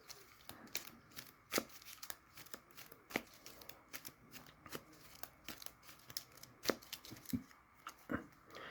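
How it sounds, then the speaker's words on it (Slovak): Trading cards are shuffled by hand in a steady run of quick, crisp riffles and flicks, close and fairly quiet, with no talking. "Inzerty ešte zamiešam."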